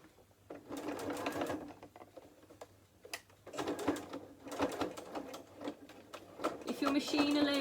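A sewing machine stitching a fabric book cover runs in steady bursts that start and stop, slowing for a careful finish, while a person talks over the stitching.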